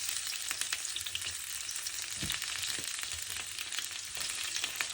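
A large onion frying in about two tablespoons of hot oil, a steady dense sizzle with scattered crackles and a couple of stirring knocks, close and alone.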